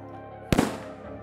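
A single sharp firework bang in the video game Escape the Backrooms, a loud sudden burst that crackles briefly and fades over a quiet background.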